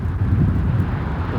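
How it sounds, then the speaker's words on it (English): Strong wind stirred up by a brush fire roars and buffets the microphone in a constant low rumble, with no voices over it. "Seems to be creating its own wind now."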